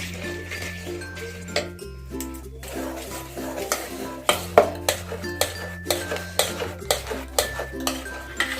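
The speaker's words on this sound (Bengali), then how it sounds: "সুজি ময়দা দুধ দিয়ে আমি এভাবে গুলে নিয়েছি" Semolina and flour batter with milk for patisapta is whisked in a bowl with a spoon, a quick train of close, bright clinks against the bowl that picks up speed toward the end, no voices.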